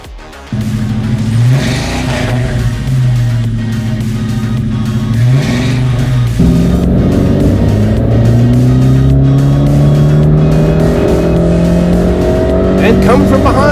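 A Fiat 500C and a Subaru Impreza race head to head, engines revving loud and steady with shifting pitch and tire squeal, a continuous close roar throughout.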